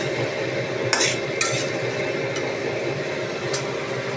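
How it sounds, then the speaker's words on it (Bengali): Ginger sautéing in a pan for a sukto, a steady low sizzle with a few sharp utensil scrapes and clinks against the pan, close and alone. "যতক্ষণ পর্যন্ত আদা থেকে কাঁচা গন্ধটা না চলে যায় সেই অবধি আমি কষাবো"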